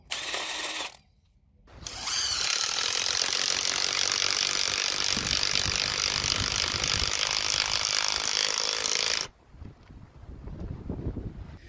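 A power tool whines steadily at close range for several seconds as it drives screws into the ground to peg down a caravan awning. Brief bursts come before it and softer rustling noise follows.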